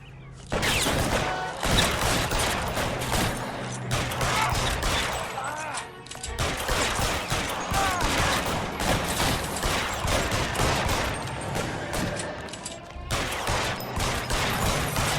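Sustained gunfire during a shootout with security men in L.A. Noire, dense bursts of shots and crashes running almost without pause, loud and close, with voices shouting now and then.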